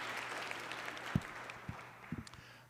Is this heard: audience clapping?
yes